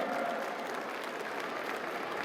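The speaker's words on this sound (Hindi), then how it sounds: "सारे मिलकर आयोजक भी हमारे खिलाड़ियों के लिए जोरदार तालियां बजा दीजिए एक बार" A crowd at the opening ceremony of the Delhi Olympic Games 2024 applauds steadily, a dense wash of many hands clapping without pause, heard from some distance.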